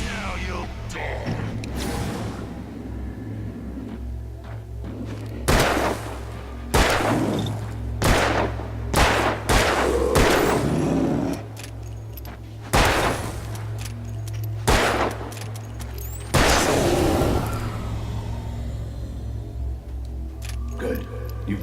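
Gunshots in Alan Wake, a series of sharp loud bangs spaced irregularly across the scene, some in quick pairs, over a low steady hum with game voices talking between shots.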